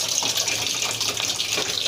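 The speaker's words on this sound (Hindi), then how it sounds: "हमारा पानी भर चुका है यहाँ निशान तक, अब हम टोटी को बंद कर देंगे" Tap water pours steadily into the tub of a semi-automatic washing machine, a continuous close splashing gush with no voices.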